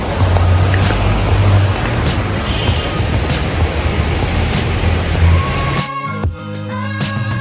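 Water rushes and gurgles steadily at Gangamaya Park in Darjeeling, a loud, dense wash close by that gives way near the end to a brief tonal sound.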